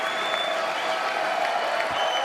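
Applause fills the chamber at a State of the Union address, a sustained wash of many hands clapping with faint talk layered above.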